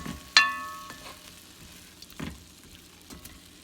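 Beef seasoned with garlic salt frying in a pan, a soft, quiet sizzle opened by one sharp metallic clang of a utensil on the pan, followed by a few light scraping stirs.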